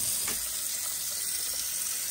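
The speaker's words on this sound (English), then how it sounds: "And I'm going to run some cold water out." Cold water running steadily from a tap in an Avion 30R RV, a close, continuous hissing rush with no pauses and no talking.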